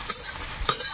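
Chopped onion frying in oil with whole cumin gives a short sizzle marked by two quick scraping stirs of a spoon against the pan.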